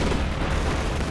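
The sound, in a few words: airstrike explosions in a strategy video game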